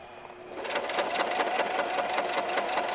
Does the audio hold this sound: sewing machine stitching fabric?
yes